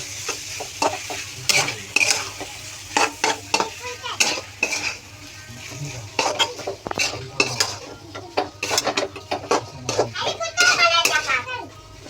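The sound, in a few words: noodles being sautéed in a pan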